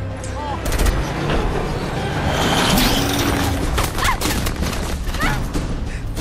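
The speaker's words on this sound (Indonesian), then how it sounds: "Tukimin pun sangat murka dan langsung memberondong Max CS dengan ratusan peluru." Heavy, sustained gunfire with hundreds of bullets fired in a Mad Max film, a dense crackling fusillade with mechanical clatter, under a narrator's voice.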